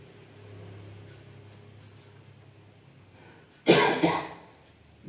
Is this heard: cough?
yes